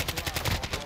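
Gunfire in the DMZ video game rattles off in a quick run of rapid, evenly spaced bursts, loud and close, with a voice underneath.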